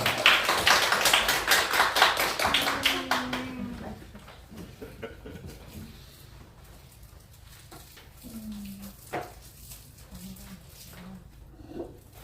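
Applause from a church congregation during a children's Sunday worship service, a burst of many hands clapping loudly for several seconds before fading into quiet room tone with faint voices.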